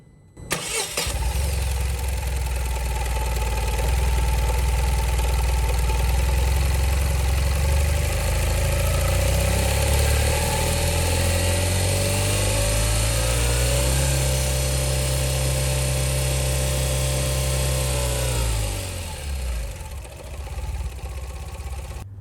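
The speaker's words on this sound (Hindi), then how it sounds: "तो ये था ACX का पेट्रोल इंजन" Tata Ace Gold Petrol CX 2021 mini truck with a 700cc two-cylinder multi-point fuel-injected petrol engine runs up close, a steady loud idle that climbs in revs, holds, then drops and cuts off near the end.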